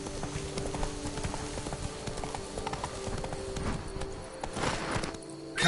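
A horse gallops in The Witcher 3, its steady clip-clop of hooves running continuously and fairly loud, with game ambience and effects layered underneath.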